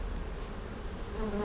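Honey bees buzz around a comb honey hive as it is worked open, a steady low insect drone that holds throughout at a modest level, close by, with no talking.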